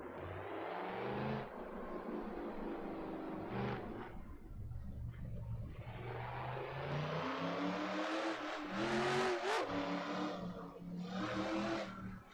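Race car engines in a racing video game drone and rev steadily behind the pace car, a continuous layered roar of many cars with rising and falling pitch.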